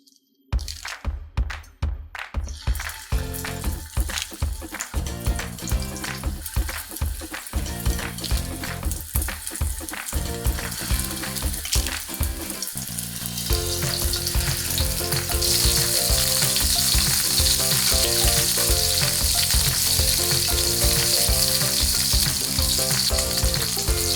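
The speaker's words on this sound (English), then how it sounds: "Let's brown some meatballs." Turkey meatballs sizzle and fry in shimmering hot oil in a pan, a steady loud crackle with occasional clinks and stirring, growing denser and more intense as the browning continues.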